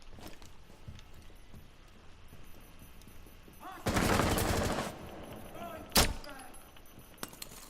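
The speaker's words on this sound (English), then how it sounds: "They're shooting at me through the walls." Bursts of gunfire tear through walls in Rainbow Six Siege, one sustained loud volley followed by a sharp single crack, set against quieter game ambience.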